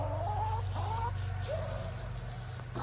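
Chickens on a homestead cluck in a coop: a few soft, rising clucks close by in the first half, then quieter, over a steady low background hum.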